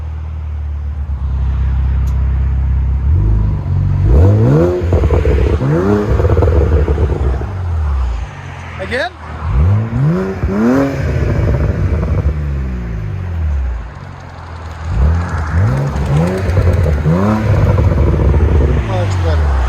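A BMW Z4 with a 3.0L inline-six and Vibrant resonators on the exhaust revs in several rising and falling bursts, close and loud, while someone speaks between the revs.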